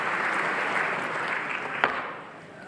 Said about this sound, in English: There's people that are clapping right now